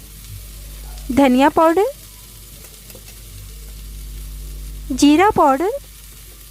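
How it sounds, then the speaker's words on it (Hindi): Ground spices roast in a pan over a medium flame while stuffed karela is being prepared. A soft, steady sizzle sits underneath a voice that speaks in two short bursts. "इस तरह से चलाते हुए अच्छी तरह से इसे मीडियम फ्लेम पर भून लेना है।"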